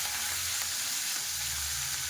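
Crab pieces fry in a hot pan with a dense, steady sizzle that holds close and fairly loud throughout, with no voices.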